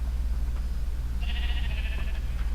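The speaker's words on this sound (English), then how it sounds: "Tons of sheep." Sheep bleating in Minecraft, a drawn-out bleat in the middle over a steady low hum of game background sound, with no talk.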